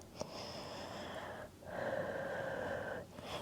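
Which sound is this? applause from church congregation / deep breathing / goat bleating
deep breathing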